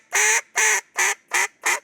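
Five evenly spaced, loud, nasal quacks blown on a duck call as a greeting call, each note held briefly with a short gap between, close up and alone.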